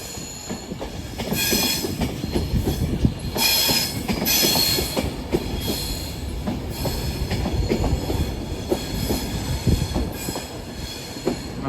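An Avanti West Coast Class 390 electric train, unit 390045, departs Carlisle station, with rumbling wheels, clattering rail joints and repeated high wheel squeals, close by.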